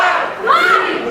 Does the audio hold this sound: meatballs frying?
no